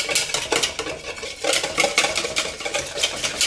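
Eggs whisked in a bowl set over a pan of vinegar water for eggs Benedict, a steady run of quick metallic taps and scraping strokes, close and continuous without talk.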